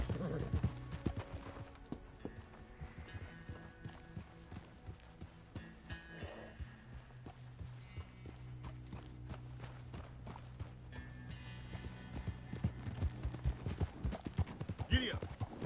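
A horse gallops in the Red Dead Redemption 2 video game, rhythmic clip-clop hoofbeats running throughout under game sounds and occasional talk.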